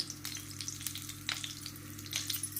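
Mustard seeds and cumin sizzle in hot oil while making dum aloo curry, a faint steady crackle with small scattered pops and a low hum underneath.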